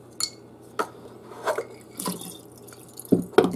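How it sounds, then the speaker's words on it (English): Ice cubes drop into a bowl of water, giving several separate plops and clinks spread out at close range, with two louder splashes at the end. "Maybe we should put this ice cube into the water."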